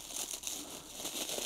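Soft crinkling of packaging as a Hoya plant is unwrapped, a brief, faint rustle of crumpled material close by.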